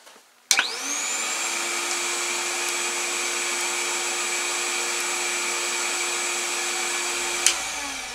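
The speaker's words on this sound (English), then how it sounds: "And as you can see, the vacuum is very gentle." A bee vacuum switches on with a sharp click and runs as a steady, loud motor whine as bees are drawn through its hose into a hive super box, then shuts off near the end.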